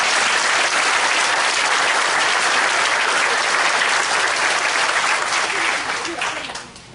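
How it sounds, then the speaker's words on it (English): An electric cooperative's annual meeting audience breaks into a round of applause, a dense, sustained clapping from a large indoor crowd that holds strong, then thins and fades in the final second. "I'd ask you to join me in a round of applause for our 30 employees who get the job done"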